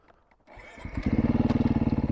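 A dual-sport motorcycle engine catches after a quiet start, then its revs in third gear settle into a loud, rapid, steady thumping pulse up close.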